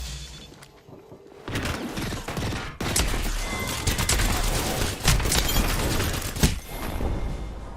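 Rapid bursts of gunfire from the Apex Legends video game, dense and loud with sharp cracks and booms through most of the stretch, with no voices.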